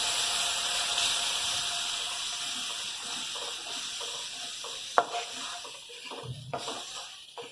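Tamarind water poured into a pan for Kerala-style inji puli (ginger curry) and stirred, a steady watery sizzle with soft wet stirring scrapes and one sharp clink of a utensil midway, close and moderately loud.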